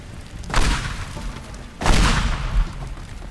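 Two heavy blasts of dynamite bundles going off in the destruction game Teardown, each a deep booming burst with a rolling rumbling tail, the second slightly louder, and no voices over them.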